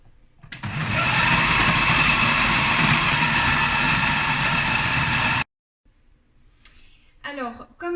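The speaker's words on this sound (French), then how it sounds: "Et on va venir mixer le tout." Small food processor blending pitted dates with a few spoonfuls of water: a loud, steady motor whir runs for about five seconds, then stops abruptly, followed by faint handling noises and a brief voice.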